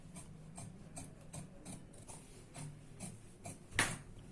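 Scissors cutting blouse fabric in a rounded line, a quarter inch from a side seam. A quiet, close series of soft snips comes in a loose, steady rhythm, with one sharper click near the end and no talk.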